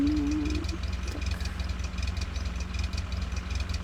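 A car engine idling in The Long Drive video game, a steady mid-low rhythmic hum with even pulsing, loud and constant throughout, with a brief faint whine near the start.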